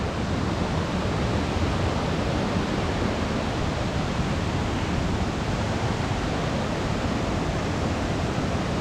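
Chet Khot waterfall in Saraburi, near Khao Yai, pours in a steady, loud, unbroken roar of rushing water that fills the whole stretch with no voices.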